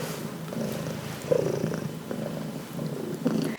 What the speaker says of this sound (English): I wonder if that purring is getting picked up on the mic